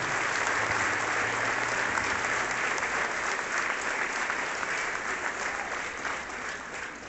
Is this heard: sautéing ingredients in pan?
no